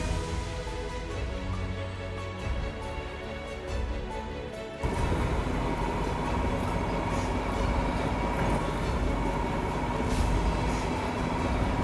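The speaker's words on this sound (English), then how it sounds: "the train's on its way down towards Shotton" A heritage train on the Ecclesbourne Valley Railway rumbles along the line, its broad mechanical roar swelling partway through and holding steady, with no voices.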